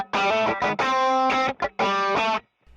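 Electric guitar with a boost pedal switched on over a mild overdrive tone, three loud strummed distorted chord bursts separated by short gaps, close up with no talk, ending in near silence.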